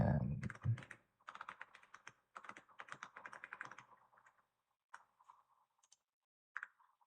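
Typing on a computer keyboard, bursts of quick close clicking keystrokes with pauses between them, with brief low sounds at the start.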